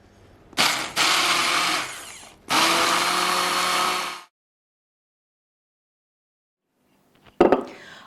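A kitchen blender whirring through kidney beans, curry madras powder, oregano and soy sauce in two loud bursts, the second lasting a couple of seconds, followed by silence and a short clatter at the end.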